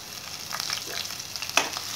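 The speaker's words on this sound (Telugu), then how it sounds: "బ్రౌన్ కలర్లోకి వచ్చేంత వరకు వేపుకోవాలి, చూసారా ఇలా బ్రౌన్ కలర్లోకి రావాలి." Onions sizzle and fry in a pan with ginger, garlic and ground masala while being cooked to brown for a chicken gravy masala, a steady close crackle with small stirring scrapes and one sharper pop.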